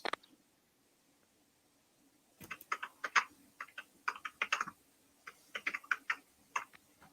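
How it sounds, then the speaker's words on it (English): Someone typing on a computer keyboard nearby: after a brief tap and a couple of seconds of quiet, bursts of crisp, irregular key clicks come in quick clusters, clear and fairly close, with no talking. "And there's someone typing."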